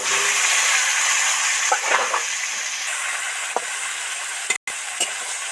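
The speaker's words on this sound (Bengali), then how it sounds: "সবার আগে ঢেঁড়সটা তেলের মধ্যে দিয়ে দেব" Steady, bright sizzling of okra frying in hot oil, with a few soft clicks and scrapes and no talking.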